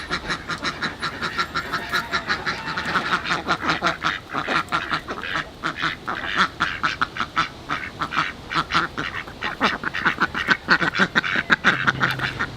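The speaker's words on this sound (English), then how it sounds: "That was the invasion of the Indian runner ducks." A flock of Indian runner ducks quacking continuously and loudly nearby, a dense rapid chorus of overlapping quacks with no talk.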